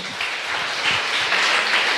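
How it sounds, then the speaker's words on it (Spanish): Church congregation applauding together in a steady, dense wash of clapping that holds at an even level throughout, fairly close and unbroken. "Bríndele un fuerte aplauso al Señor"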